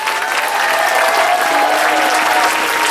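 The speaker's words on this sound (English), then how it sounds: "oh, clap your hand." A church congregation claps hands loudly and continuously during worship led by a bishop, a dense steady wash of clapping with a sustained tone, likely singing or an organ, running beneath it.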